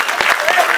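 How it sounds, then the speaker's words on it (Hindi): An audience at a comedy show during a foundation day and award ceremony breaks into loud, dense applause, a steady close roar of clapping hands. "जोरदार ताली बजा दी बंगाली भाई।"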